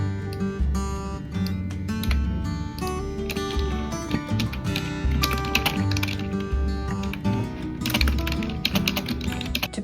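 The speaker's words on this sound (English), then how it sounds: "I have 9 notes to type." Continuous typing on a keyboard while writing up notes, a busy stream of close clicks and taps running throughout over a dense, loud background bed.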